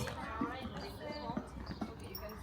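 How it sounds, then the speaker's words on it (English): A horse's hooves clip-clop at a steady walking pace during a child's ride, heard close and moderately loud with voices talking nearby. "Murphy, look at you on a big horse"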